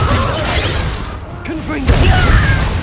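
A Bombarda spell explosion in the video game Hogwarts Legacy, a loud booming blast with shattering debris over a dense battle soundscape, with a voice shouting briefly in the fight.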